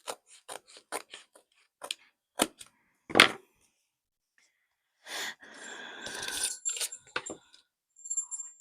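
Scissors snip through paper for a junk journal in a string of sharp, close clicks, then a longer rustling, scraping stretch of paper handling, with a few more snips at the end.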